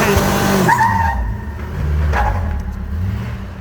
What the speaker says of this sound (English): Slow motion burnout, where do you get to see it?